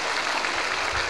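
An audience at a humorous Nahdlatul Ulama religious lecture by Gus Muwafiq claps loudly. The applause is a brief, dense, continuous burst.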